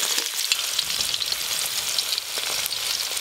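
Chopped onions frying in oil in a home kitchen for chicken biryani, giving a steady, close, loud sizzle with faint stirring scrapes and no talk.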